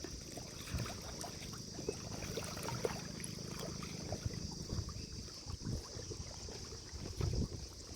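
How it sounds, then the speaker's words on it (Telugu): Soft, steady wash of river water lapping and trickling nearby as waves break on a full river in a village fishing spot, with a few faint knocks and splashes and no talking. "అలలు కొడతా ఉన్నాయి నీళ్ళు"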